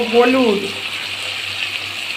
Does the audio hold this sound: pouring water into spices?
yes